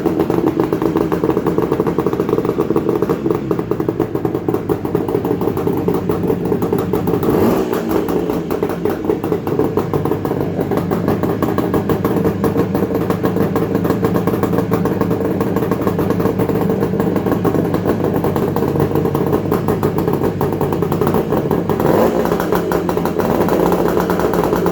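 A Suzuki X5 two-stroke motorcycle engine runs after a cold start, a close, rattly buzzing idle that holds steady for the whole stretch with small blips in revs, no talking.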